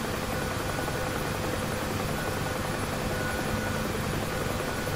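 UH-1H Huey helicopter taxiing toward the runway in DCS, a steady, loud broadband rotor and turbine roar that stays constant throughout with no talk.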